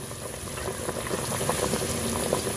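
A pot of pork nilaga stew with cabbage and green chili boils at a steady rolling bubble, close and continuous, with faint popping throughout.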